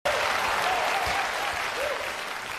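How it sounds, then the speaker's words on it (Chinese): Audience applause at a Deyun Society crosstalk comedy show, a dense sustained clapping from a large crowd that starts abruptly and holds steady throughout, with a faint voice over it. "啊，张九龄、王九龙啊，给大家带来一段，掌声嗨起来！"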